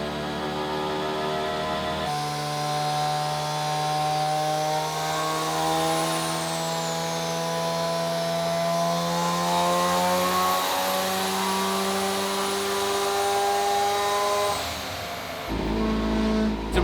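A rotary-engined Corvette revs hard on a dynamometer, its loud buzzing engine note climbing and falling in pitch through a long sustained pull, close and alone before it cuts off near the end.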